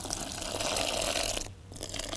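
A pint of water pours in one continuous stream into a fine fishing groundbait mix, a close splashing gush with a brief pause before the pour resumes.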